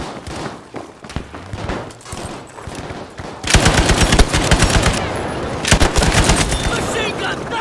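Machine gun fire in the Battlefield 5 multiplayer game, from a Type 11 LMG, rattling in rapid bursts that grow louder and denser halfway through, mixed with other battlefield gunfire and shouted voices.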